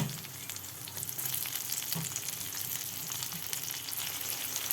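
Chopped tomatoes sizzle with onions in hot oil over a low-to-medium gas flame for a Bengali fish curry, a constant close crackling fry with no talk.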